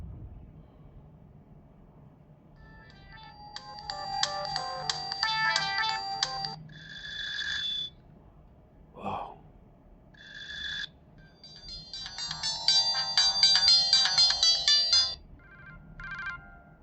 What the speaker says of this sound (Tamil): இது உள்ளே வந்து என்னென்ன ரிங்டோன் இருக்குன்னு கேட்குது.